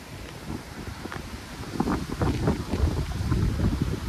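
Strong wind gusts across a tent campsite, a loud roaring buffet on the microphone that builds and stays rough throughout, with no voices.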